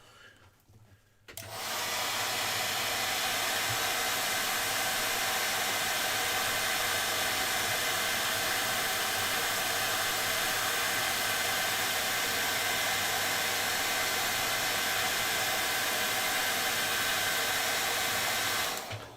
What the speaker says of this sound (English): Let's get the hairdryer on that.